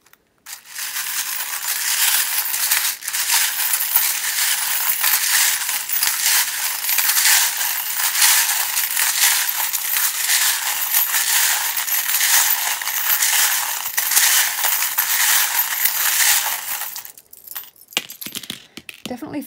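Dice for a tarot reading rattle and clatter continuously for about seventeen seconds in a dense, crisp stream, then stop abruptly, leaving a few faint handling sounds.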